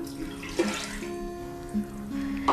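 Filtered water pours from a cup into a Vitamix blender jar, a soft steady trickle and splash heard close and alone, with brief louder splashes near the start and end.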